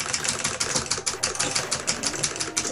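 A power drill running in the apartment next door at night, a harsh, rapid pulsing grind that holds steady and loud throughout with no pauses.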